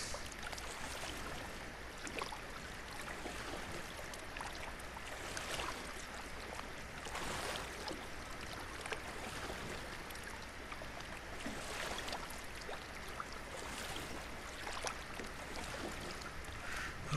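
Canoe paddling on water in ARK: Survival Evolved: a steady, faint wash of water and soft rhythmic paddle strokes, continuous with no talking.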